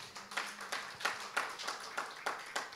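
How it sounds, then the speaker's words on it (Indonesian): A church congregation claps during a worship service, a steady run of sharp, evenly spaced claps repeating about three times a second at moderate volume. "Yang percaya berikan sorak-sorai buat Tuhan Yesus"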